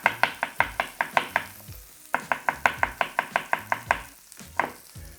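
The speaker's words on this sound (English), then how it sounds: "I'm just gonna chop it nice and quick." A knife chops a white onion on a cutting board in quick, even strokes, two fast runs of sharp close knocks split by a short pause, with a steady sizzle from a pan in the background.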